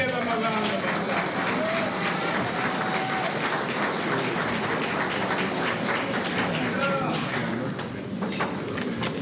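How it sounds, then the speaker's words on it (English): Sustained loud applause from a ceremony audience at a cabinet ministers' swearing-in for a new Attorney General, dense and steady throughout with some voices and cheers mixed in. "Please give him a round of applause."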